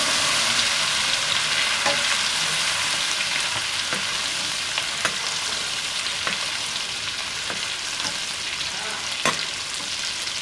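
Goat brain fries with ginger and garlic in a pan, a constant loud sizzle with occasional sharp ticks and pops from a spatula stirring throughout.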